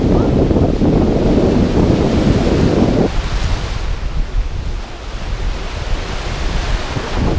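Baltic Sea waves and strong wind at Sopot: loud, continuous surf roar with gusts buffeting the microphone, heaviest in the first few seconds before easing slightly, no voices.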